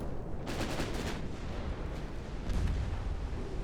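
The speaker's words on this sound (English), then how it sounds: "3 torpedo hits" Torpedoes strike an enemy cruiser in a naval warfare game, three hits arriving as booming, rumbling impacts over a steady low roar, with a heavier thud toward the end.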